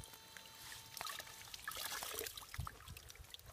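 Wet cotton rag wrung out hard by hand while packing seedlings, water trickling and dribbling in faint, close spurts with no talk.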